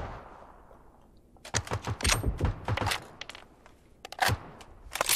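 PUBG gunfire from a first-person match on PS4, played with a DualShock 4 controller: loud, rapid bursts of automatic shots in quick succession, then a short pause and a few more sharp cracks.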